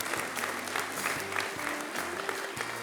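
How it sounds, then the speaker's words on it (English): Clapping from the audience at a research awards ceremony, a continuous even patter across the room with a faint voice underneath. "Let's give her a round of applause as well, please."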